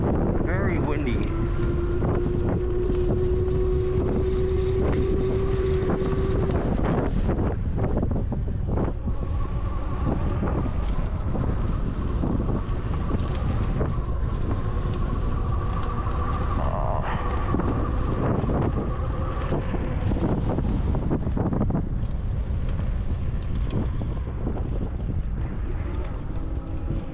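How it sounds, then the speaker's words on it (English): Strong wind roars and buffets the microphone during a bike ride, loud and continuous for the whole stretch, with a few tonal whines and a voice speaking intermittently underneath. "Very windy."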